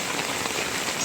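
Heavy rain hisses down steadily in Hemayetpur, a brief, even wash of close, dense rainfall.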